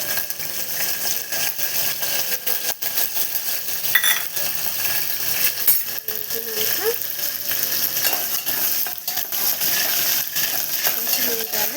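Cumin and mustard seeds frying in hot oil, a steady close sizzle with scattered small pops and crackles that hold throughout.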